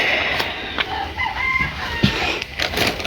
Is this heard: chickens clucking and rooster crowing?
yes